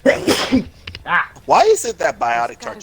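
A single sharp sneeze bursts out near the start, close and loud, followed by someone talking casually while playing a game.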